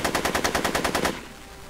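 A rapid machine gun burst from a mafia shootout in a Back to the Future video game, about a dozen evenly spaced shots rattling for a second before cutting off into low background hum.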